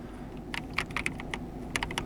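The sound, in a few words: key presses on Logitech G316 X keyboard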